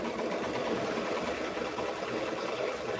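A domestic sewing machine runs steadily as it stitches fabric down along a marked line, a continuous whirring drone held at even level with no talk.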